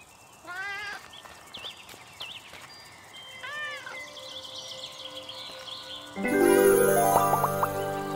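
A cat in the video game Little Misfortune gives a few short, separate meows in an otherwise quiet scene. Louder game music and sound effects then come in near the end.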